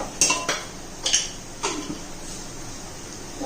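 A big spoon scrapes and knocks against a pan of rajma masala, a few sharp metallic clinks spaced about half a second apart followed by softer scraping, close and moderately loud.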